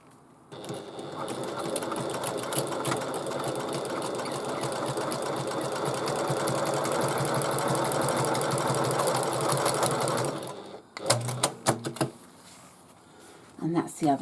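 A sewing machine runs in one long steady burst while top stitching a bag, a fast rhythmic close mechanical whir that stops after ten seconds, followed by a few short clicks and fabric handling.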